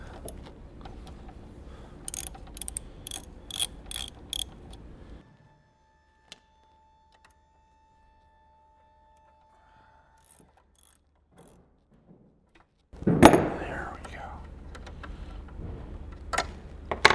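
A ratchet clicks in short repeated bursts while breaking free and backing out the front brake caliper bolts on a GSXR motorcycle, then goes quiet for several seconds before a louder scraping handling noise near the end.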